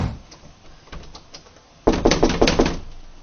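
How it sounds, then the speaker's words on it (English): A series of firm knocks bang on a door, first softer and spaced, then a louder cluster of rapid heavy thumps near the end. "he bangs the door and hears a suppressed sound"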